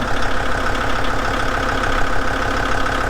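A tractor engine idles steadily and loudly at close range, a continuous low rumble with a faint knocking pulse and no talk over it.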